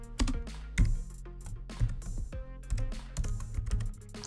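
Typing on a computer keyboard while entering a command line, a series of close, crisp key clacks in irregular bursts with short pauses between them.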